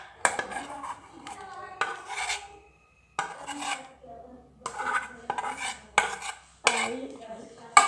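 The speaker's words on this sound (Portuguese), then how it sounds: "você mexe a sua slime quente, quente demais." A utensil scrapes and stirs hot slime in a pan, producing repeated rasping, clinking strokes in short bursts with brief pauses, close and moderately quiet, with no talking.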